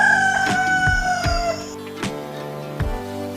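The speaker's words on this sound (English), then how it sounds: "And this is a hen." A hen calls with sharp, repeated clucks spaced about a second apart, set against a steady tonal background with a high whistling note early on.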